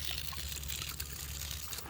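Rinse water is poured out of a sampling bottle at a nearshore lake sampling site as a steady, continuous splashing wash, close and fairly loud, with no voices.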